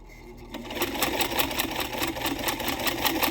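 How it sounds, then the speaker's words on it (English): A sewing machine top-stitches along a fringed fabric edge, starting after a brief pause and then running as a steady, close, rapid mechanical whir with a rhythmic needle chatter. "we're just going to stitch along the edge"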